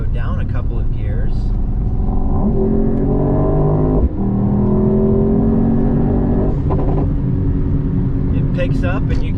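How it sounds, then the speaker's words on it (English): A Mercedes-AMG GT 55 tuned by Renntech, in Sport Plus mode, revs loudly and close by, its engine note climbing through the gears with exhaust pops and burbles; a voice talks over the engine. "picks up and you can hear the pops and burbles"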